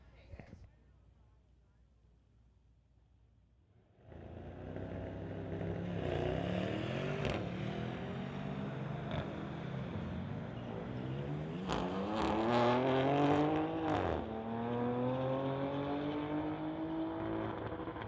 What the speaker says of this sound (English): a 2021 BMW. Going against the Mercedes on the pit side.